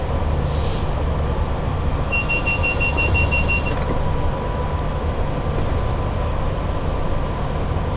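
Two Class 87 electric locomotives work together hauling an intermodal freight over the West Coast Main Line at Shap in Train Sim World 6. A loud, steady rolling rumble runs throughout, with a brief high hiss partway through.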